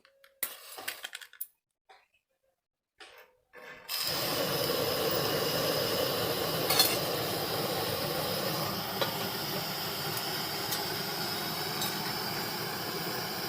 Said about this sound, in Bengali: তা প্রথমে গ্যাসটাকে আমি ধরিয়ে নিচ্ছি